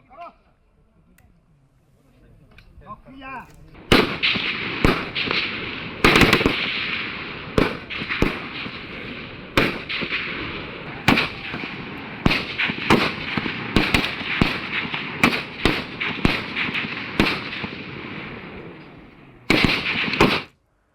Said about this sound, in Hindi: पुलिस कर्मियों को 303 rifle, SLR rifle, AK-47 rifle तथा आधुनिक हथियारों से फायरिंग अभ्यास करवाया जा रहा है।